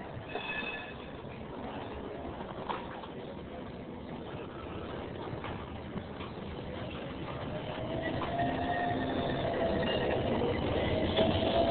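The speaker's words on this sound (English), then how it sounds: "Here's the tram again, going by." A tram passes along a street in Athens, Greece, its rumble and rail noise building gradually louder toward the end over a steady hum of city traffic.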